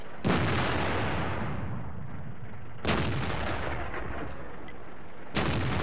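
Three heavy tank cannon shots in World of Tanks, from a Black Prince in battle: each sharp, loud blast hits about two and a half seconds after the last and rolls into a long rumbling decay, with no voices.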